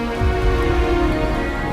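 Steady rain falling in a dramatic scene, a dense, even hiss and patter that holds at one level throughout with no voices over it.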